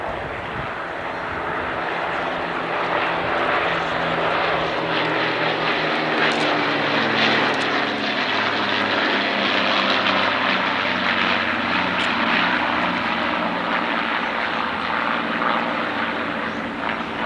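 Piston engines of a Lancaster bomber, Hurricane and Spitfire, six Rolls-Royce Merlins in all, fly past at an airshow, a loud continuous propeller drone that holds steady throughout, with no voices.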